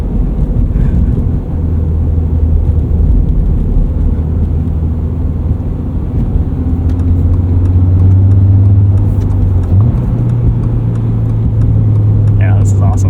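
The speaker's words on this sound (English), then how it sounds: "driving around in the snow in a sports car" A lifted 2022 Subaru BRZ sports car on Falken Wintpeak snow tires cruises through snow, a steady mid-pitched engine drone from inside the cabin that climbs as it revs higher, with road rumble underneath.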